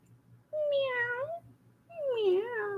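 A person imitates a cat with two drawn-out, rising and falling meows, each close and clear, separated by a short pause over a faint low hum.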